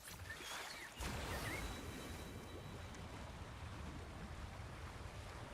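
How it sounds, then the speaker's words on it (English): A big waterfall in the video game Wuthering Waves, heard as a steady broadband rushing roar that holds evenly throughout, with a brief sharper burst near the start. "That's a really big waterfall."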